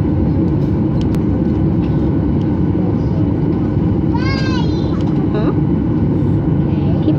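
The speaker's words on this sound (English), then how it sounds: "Engine starting. Here we go. We're taking off." A loud, steady airplane engine roar fills the cabin throughout takeoff from Stansted, with a short whistling tone rising briefly midway.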